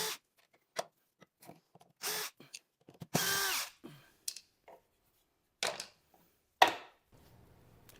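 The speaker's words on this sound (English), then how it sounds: "I'm going to go ahead and remove the screws from them" Power drill backing screws out of rosewood plane totes in a woodworking shop, short whirring bursts of varying length separated by silence, close and loud, with small clicks and handling knocks between runs.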